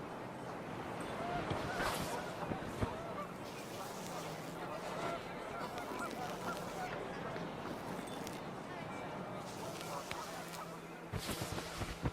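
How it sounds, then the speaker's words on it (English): Panicked geese honk in What Remains of Edith Finch, their calls scattered through a dense, steady wash of wind and ambient noise, moderately loud throughout, with someone talking over parts of it. "The wind picked up, and panicked geese appeared and quickly went."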